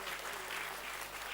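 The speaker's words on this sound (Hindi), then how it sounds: "सबसे कहूंगा कि सब लोग जोरदार तालियां बजाएं" An audience at an anniversary event applauds in a steady, dense wash of clapping, moderately loud and continuous throughout the short stretch.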